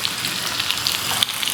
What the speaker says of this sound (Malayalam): നമുക്കൊന്ന് കടുക് വറുക്കാം.